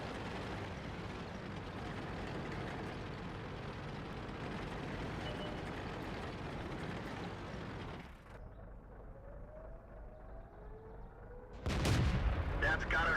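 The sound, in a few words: tank cannon fire in the video game World of Tanks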